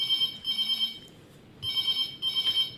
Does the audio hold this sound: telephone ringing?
yes